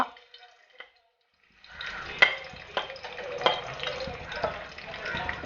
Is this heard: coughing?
no